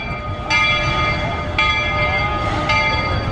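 The Walter E. Disney steam train arriving at a station in Walt Disney World, with three sharp ringing bell-like strikes about a second apart over steady mechanical rumble and crowd ambience.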